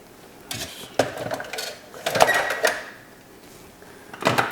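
Loose metal screws clink and rattle inside a Tomy Hearoid toy being repaired, in several brief, bright bursts of jostling against a quiet room.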